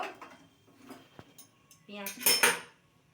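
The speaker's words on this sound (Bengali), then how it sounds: "পেঁয়াজ কুচিগুলি দিয়ে এবার ভালো করে ভাজবো" Chopped onions added to a pan of hot oil with cinnamon and cardamom, clinking utensil and pan sounds followed by a brief louder burst of sizzle, with talk nearby.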